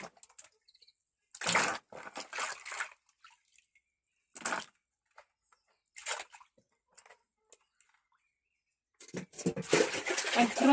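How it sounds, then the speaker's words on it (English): Intermittent bursts of splashing and sloshing water as food is rinsed by hand, separated by short quiet pauses, close up. "I'm going to wash it"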